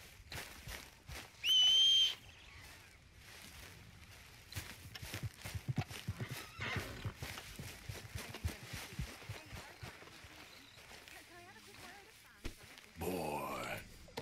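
A horse in the video game Red Dead Redemption 2 on Xbox One X: a sharp whistle call, then a stretch of soft hoof clops, snorts and grunts, ending in a louder whinnying neigh.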